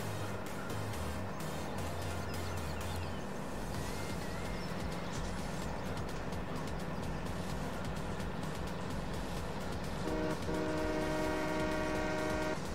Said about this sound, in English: We have a proper train horn as well